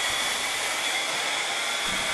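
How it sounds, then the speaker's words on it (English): A hair dryer blows with a constant high-pitched whirring hiss, close and steady throughout, drying glue on a wooden book binding press, with no other sounds. "we like to use a specialized tool. We call it a hair dryer."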